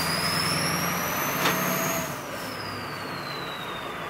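A warmed-up truck engine runs steadily as the truck begins to drive, giving a continuous, fairly loud drone with a faint high whine that shifts pitch, and no voices.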